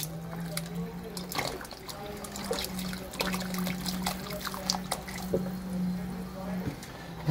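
Beef stock trickles and splashes into a pot of Austrian-style Hungarian beef goulash, a steady liquid pour at close range with a low hum beneath it.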